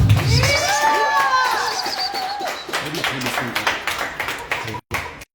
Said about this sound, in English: So by round of applause, everybody, please give it up